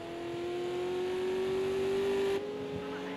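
A race car engine in Project Cars 2 at Silverstone drones steadily with a rising, sustained tone, then cuts off abruptly near the end, leaving a lower hum.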